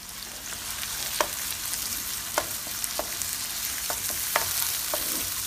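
Onions sauteing in a pan give a steady, close sizzle and frying hiss, broken now and then by soft clicks of stirring, with no voices.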